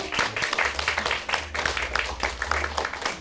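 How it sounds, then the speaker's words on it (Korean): Audience applause rings out at a Korean beauty brand awards ceremony in a Yongsan hall as a skin clinical research centre's winner takes the stage, steady dense clapping that stays loud throughout with a low hum underneath. "뜨거운 박수 부탁드릴게요."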